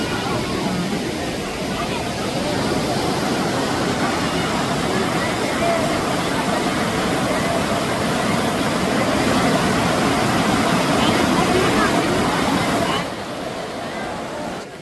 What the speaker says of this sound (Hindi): इतना अच्छा जल का प्रवाह, इतना अच्छा उसकी आवाज़ जो सुनाई दे रही पानी की, वो बहुत ही अच्छी।